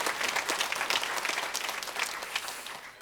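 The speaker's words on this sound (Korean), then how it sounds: "우리 여전도 회원들 위해서 한번 격려의 박수 해주시면" Church congregation at a Sunday morning service applauding: continuous, fairly dense hand clapping from a room full of people, moderately loud and steady for the whole stretch, with no talking over it.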